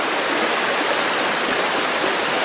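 A forest stream near Akan National Park on Hokkaido, water rushing in a steady, dense broadband hiss, close and continuous with no other sounds.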